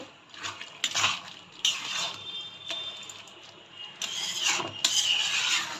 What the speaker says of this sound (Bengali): ঘি দেবো ভালো করে নেড়ে দেবো